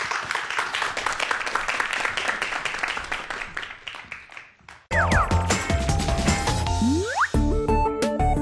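Brisk applause from a lecture audience before a math talk, dense at first then thinning and fading over a few seconds before loud music takes over.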